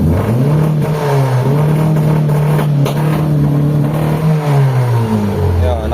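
A car engine with a low-power fault is revved hard and held near its limit, a steady loud drone that rises and falls slightly, with faint talk underneath.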